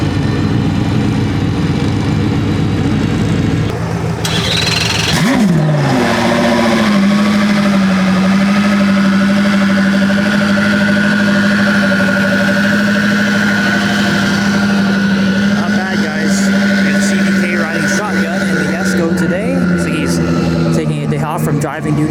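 A Koenigsegg CC850 supercar engine idles loudly with a deep steady drone after a sharp startup burst, rising in pitch briefly near the end; voices murmur faintly underneath, at Monterey Car Week.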